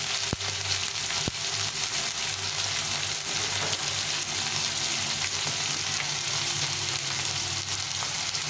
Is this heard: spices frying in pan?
yes